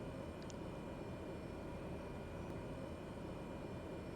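A steady, uniform aircraft engine drone while an airliner taxis in Microsoft Flight Simulator 2020, a continuous broadband rumble with no variation and no voices.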